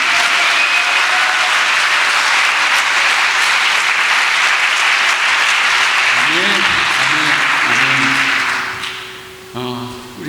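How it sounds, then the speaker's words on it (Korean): Loud applause from a worship conference congregation fills the space for about nine seconds, then fades. A sustained musical tone from a keyboard or organ enters under the clapping near the end. "영광의 박수 올려드리겠습니다"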